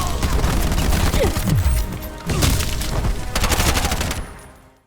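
Gunfire in the video game Bright Memory: Infinite: rapid bursts of automatic shots and heavy booms in quick succession, loud and close, with brief pauses between volleys before fading out at the end.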